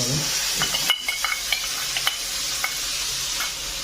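Stone-ground spice paste for a Gondhoraj egg curry frying in a pan, a loud, steady, close sizzle broken by scattered scrapes and knocks of stirring.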